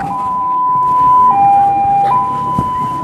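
A loud two-tone ambulance siren alternates steadily between a high and a lower pitch, close by, over low road rumble.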